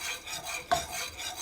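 Broth is stirred into a pot of chicken and dumplings, a faint swishing stir with one soft utensil knock against the pot in a brief quiet moment.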